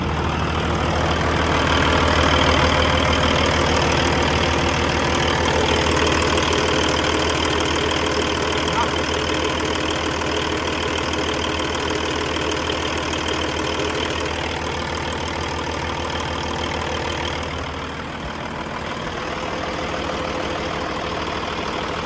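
A Paccar MX13 diesel in a 2012 Peterbilt 386 truck idles steadily close by, a deep continuous rumble with a rattly knock and no pauses, with a faint change near the end.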